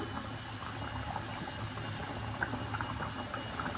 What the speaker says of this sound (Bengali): মাংসটা দেখো ফুটে গেছে